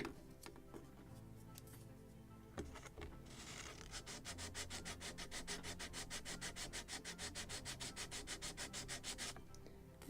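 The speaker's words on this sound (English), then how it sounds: "So more sanding here where I have marked it." Quiet scraping and rubbing, then a long run of rapid back-and-forth strokes of sandpaper on the wooden hull planking of a model gunboat, close up and rhythmic.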